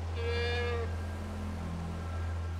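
A goat in the video game Far Cry 4 gives one short, nasal bleat near the start, over a constant low background hum.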